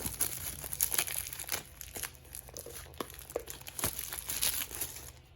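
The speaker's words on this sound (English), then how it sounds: "Let's get the unwrapping ASMR" Plastic wrap is crinkled and torn off a pastel floral oracle card deck box, giving close, continuous rustling with sharper tearing bursts and no talking.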